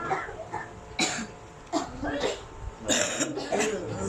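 Several separate coughs ring out from different people in a room, each a short harsh burst over a murmur of background noise.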